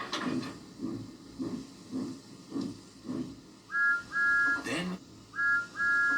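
Two-tone whistle blasts sound in repeated short pairs near the end, after a stretch of rhythmic low chugging, fairly close and clear.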